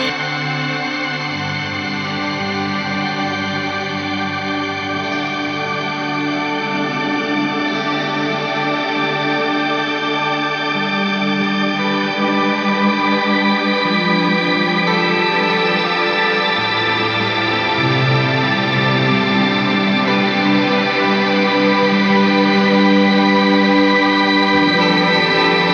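An electric guitar played through a Crazy Tube Circuits Sidekick Jr pedal with delay added rings out in sustained, overdriven chords and notes with echoing repeats, loud and continuous throughout.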